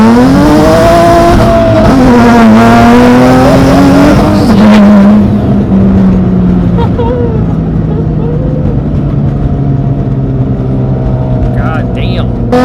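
Boosted Nissan 350Z revving during a ride, a loud engine rising and falling in pitch over a few seconds and then settling into a steady drone, with people talking over it.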